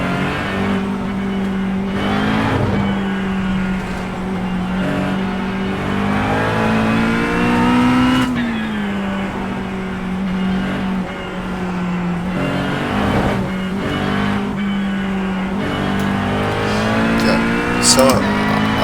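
A race car engine in iRacing drones steadily through laps, its pitch rising and falling as it accelerates and shifts, loud and continuous with occasional speech over it.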